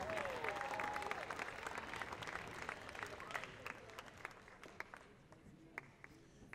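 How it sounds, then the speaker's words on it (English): Applause for the class of 2018 seniors at an athletic department awards event, a steady crowd clapping that thins and fades over several seconds with a few scattered claps at the end. "how about one final round of applause for the class of 2018"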